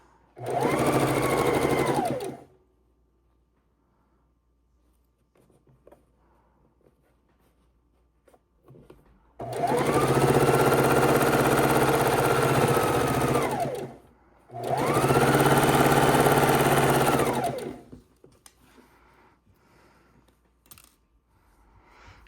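A sewing machine chain stitches seams of half square triangles into a scrap quilt top, running in three close, steady bursts of about two to four seconds, separated by quiet pauses, with no talking.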